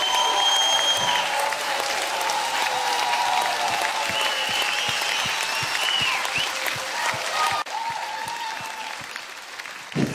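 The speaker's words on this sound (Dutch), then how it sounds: "mocht u nou een staande ovatie geven, wat ik kan begrijpen natuurlijk" An audience at a talent show gives a standing ovation, with sustained, even applause from a crowd filling the room and a brief dip partway through.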